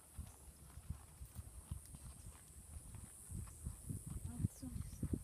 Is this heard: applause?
no